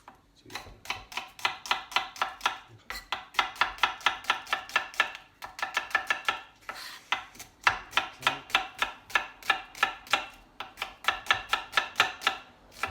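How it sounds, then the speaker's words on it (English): Knife slicing Spanish onions on a chopping board: rapid, regular crisp chops in quick runs separated by brief pauses, close and moderately loud with no talking. "We start to slice the onions."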